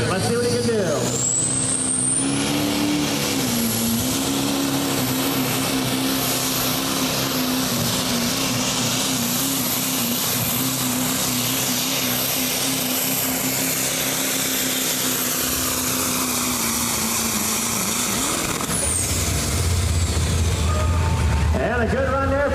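A Ford pulling truck fitted with a Duramax diesel engine roars through a long run at a truck pull, its loud, sustained engine howl wavering in pitch for about twenty seconds before shifting down at the end, with an announcer speaking over it.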